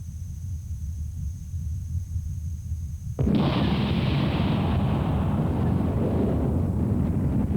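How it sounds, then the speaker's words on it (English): A volcanic eruption in Virunga, a fountain of magma bursting up: after a low windy rumble, a sudden loud roaring blast begins and holds as a continuous heavy rush. "Shooting several hundred feet into the sky, the fountain of magma soon builds up a cone"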